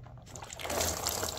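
Old fluid drains from a used dirt bike into a container below, a soft, steady trickle and splash that swells after a quiet start and continues faintly through the short moment.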